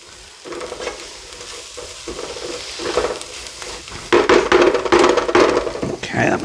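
Onions and celery sautéing in a pan for cornbread stuffing, a steady close sizzle with stirring scrapes and clatter, getting louder and busier toward the end.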